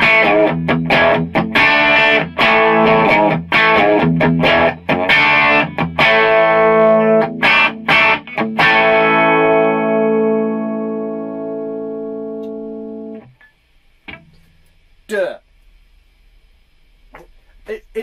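An electric guitar on an amp's clean channel plays through a Marshall 4x12 cabinet loaded with Celestion G12T-75 speakers: rhythmic chords and picked notes with effects for about thirteen seconds, then ringing out before someone talks briefly.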